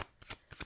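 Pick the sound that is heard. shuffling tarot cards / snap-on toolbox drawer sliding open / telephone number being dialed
shuffling tarot cards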